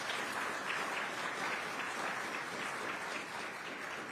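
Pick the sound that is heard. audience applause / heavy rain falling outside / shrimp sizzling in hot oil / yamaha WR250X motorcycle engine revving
audience applause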